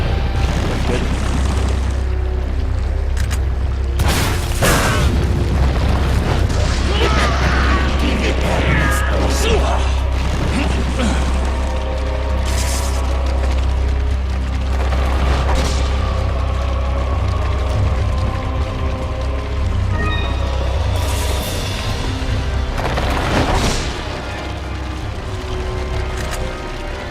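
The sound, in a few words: rocket launcher fired and exploding in Resident Evil 4 video game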